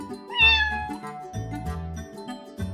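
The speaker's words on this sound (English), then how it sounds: "Kitten." A cartoon kitten gives a single clear, high meow near the start, set against light, bouncy background music in a children's farm alphabet cartoon.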